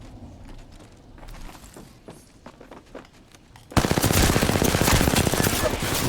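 Gunfire in the video game Apex Legends: scattered shots and game noise at first, then a loud, sustained rapid automatic burst for the last couple of seconds.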